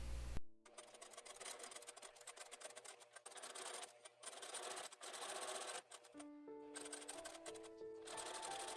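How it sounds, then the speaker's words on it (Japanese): A sewing machine stitches a gathered yoke seam on a tunic dress in quick rhythmic bursts, its rapid needle ticking pausing briefly between stretches of stitching, close and fairly quiet. "ミシンをかけるときは縫い代はよけて出来上がりの位置だけを縫います。"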